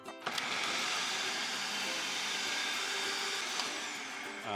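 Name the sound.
food processor pureeing chopped onion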